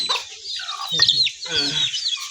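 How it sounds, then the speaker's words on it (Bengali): Chickens cluck and squawk excitedly at close range while being fed, with busy overlapping calls throughout and some background voices. "মুরগিকে খাবার দিচ্ছি এই যে খাবার দিচ্ছে মুরগি"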